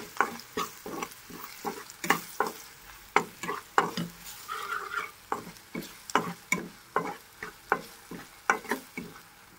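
Turmeric, salt and chilli powder being stirred into curry leaves in a frying pan for a spicy egg fry, a spoon scraping in a steady repeated rhythm with light sizzling underneath, close and alone.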